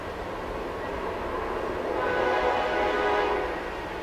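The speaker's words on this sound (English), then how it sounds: "trains, you get these trains going here." A train rumbles past steadily, a continuous low roar that swells slightly in the middle, with no voices.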